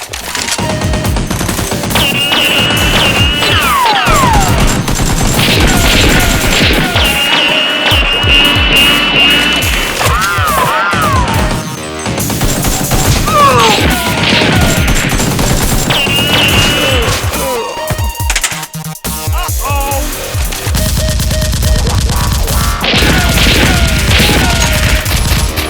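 Toy Nerf guns firing in a staged battle: rapid clattering bursts and pops repeat loudly over a dense, continuous musical soundtrack, with occasional shouting.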